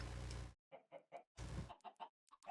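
A Minecraft chicken in the Stoneblock 4 modpack gives a series of short, quiet clucks in quick bursts, separated by brief silences and interrupted twice by longer noisy swishes.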